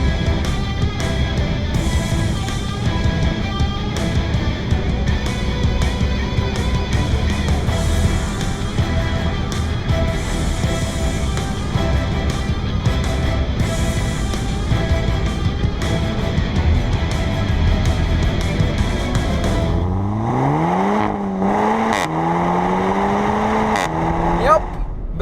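A Seat Leon Cupra 290 with its EA888 engine drones steadily under hard throttle, then its pitch sweeps upward sharply through a gear near the end, loud and close from inside the car.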